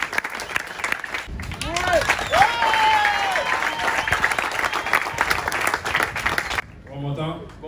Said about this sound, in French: main dans la main, vous pouvez vous applaudir!